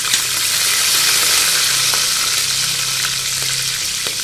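Green chillies frying in hot oil in a pan, a steady, loud, continuous sizzle with faint stirring throughout.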